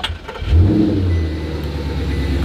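A naturally aspirated V8 supercar engine at delivery starts up and settles into a loud, steady idle close by, with a brief blip at the start and a sustained low rumble after.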